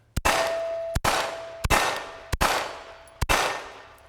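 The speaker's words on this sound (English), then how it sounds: "and start shooting." Rifle shots fired in a close-quarters combat shooting drill: five sharp, loud reports spaced roughly evenly about 0.7 seconds apart, each with a ringing metallic tail, and no talking.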